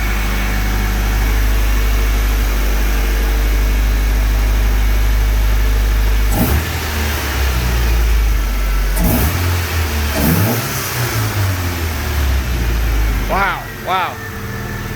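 A Nissan S13's engine, freshly fixed after a timing problem, holds a loud, steady idle, then revs up in several sharp bursts that fall back to idle, with a voice speaking briefly over it.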